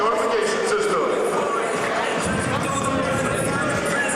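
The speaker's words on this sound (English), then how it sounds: "we have a pretty good crowd on hand" A crowd at a Stonehill College basketball game murmurs as a steady hubbub throughout, with sneaker squeaks and thumps from the court and a commentator's voice talking over it.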